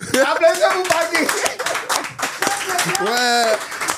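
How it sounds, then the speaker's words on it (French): An audience claps at a Togolese rap interview, with brisk, scattered hand claps running under several excited voices talking and calling out. "Applaudissez-vous, Bagui."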